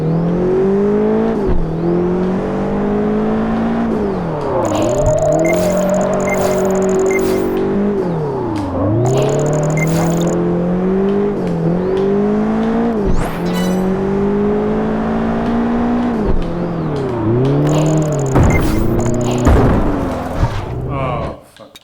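A car drifting in Project Gotham Racing 4, engine whining and revving up and down in sweeping swells with tyre squeal, loud and continuous, with a voice talking over it.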